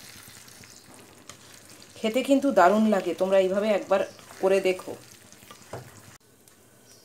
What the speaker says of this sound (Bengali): দুটো ডিমকে গুলে রেখেছি সেটা জাস্ট দিয়ে দিলাম। দিয়ে এটাকে নাড়ানাড়ি করে চাপা দিয়ে আবার হতে দেবো।